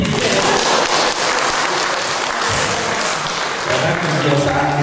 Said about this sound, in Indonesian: Seharusnya ada tepuk tangan.